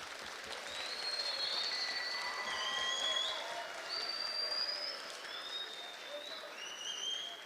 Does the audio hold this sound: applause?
yes